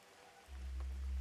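Rain falls in a steady, soft hiss that swells partway through and then holds constant, faint and distant with no voices.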